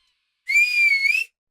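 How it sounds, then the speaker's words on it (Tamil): A person whistles as a signal, giving one steady, bright whistle that lasts just under a second. It is clear and close, with silence before and after. "அவ விசில் தான், அவ விசில் தான்."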